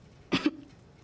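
A man coughs twice in quick succession, a short close pair of throaty bursts in an otherwise quiet room.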